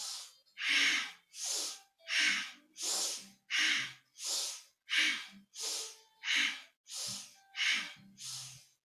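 Rhythmic breathing during Kundalini yoga twists: about a dozen sharp, forceful breaths, alternating inhale and exhale in an even, quick pulse, close and loud with no talk.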